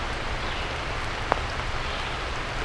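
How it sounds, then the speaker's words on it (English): Steady rain falls during a wet turkey hunt outdoors, a constant close hiss with one brief sharp tap partway through and no talking. "It's just, this rain is really screwing us today."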